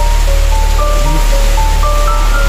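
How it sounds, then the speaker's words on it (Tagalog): Heavy rain pours steadily over a house in Quezon Province, a dense, even roar of downpour with a constant low rumble underneath and a faint tonal whine threading through, no voices. "Ay, grabe po ang ulan mga kaprabis."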